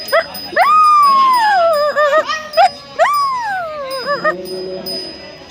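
A voice imitates a dog with a few long, wavering howl-like calls and short yelps, close and clear, with no other talk.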